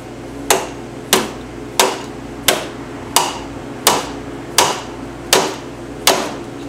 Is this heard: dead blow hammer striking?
yes